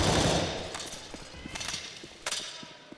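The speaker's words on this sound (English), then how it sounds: "Sprays some bullets through that smoke." Brief spray of bullets in Counter-Strike, fired through smoke near the A bomb site during a collegiate match, heard as a few sharp distant cracks after an initial wash of noise.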